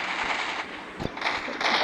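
A few sharp gunshots crack out in quick succession over a busy background, gunfire in a first-person shooter video game.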